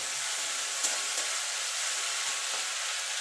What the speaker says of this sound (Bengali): এবার মশলাটাকে ভালো করে একটুখানি কষিয়ে নেব।